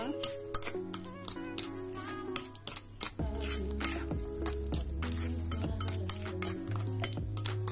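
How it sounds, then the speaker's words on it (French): A utensil scrapes and clinks against a bowl while peanut cake batter is mixed, irregular knocks and metallic taps over a background of sustained music-like tones. "On mélange tout ça bien"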